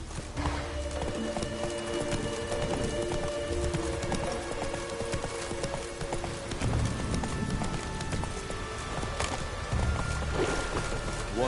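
Roach the horse gallops in The Witcher 3, hooves beating a fast, continuous clip-clop rhythm close by, with ambient game sounds layered underneath.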